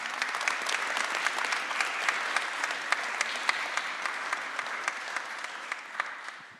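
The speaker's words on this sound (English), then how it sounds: "words of appreciation and gratitude and applause, please, for our guests, ladies and gentlemen." Steady applause from an audience at a university cooperation anniversary ceremony in Krakow, dense clapping sustained at a moderate level throughout and tapering slightly at the end.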